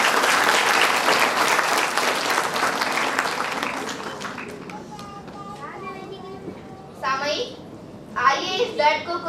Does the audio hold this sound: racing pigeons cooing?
no